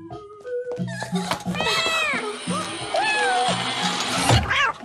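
A cat meows a few times in drawn-out, wavering cries, mixed in with a voice and other people talking over a busy, cluttered background.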